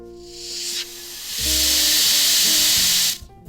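R290 refrigerant hissing out of a cut compressor line, a loud, steady, close hiss lasting a couple of seconds after a brief softer release, then cutting off abruptly.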